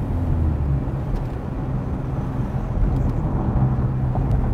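Car engine rumbling with a low, rising drone and road noise from inside a manual-transmission car while a learner gives it gas, steady and moderately loud with no clear voices.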